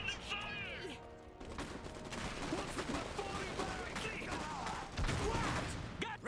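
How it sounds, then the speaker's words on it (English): Battle gunfire in the real-time strategy game Iron Harvest, scattered bursts and volleys rattling beneath overlapping voices and game chatter, fairly quiet overall with a louder burst near the end. "We're under fire."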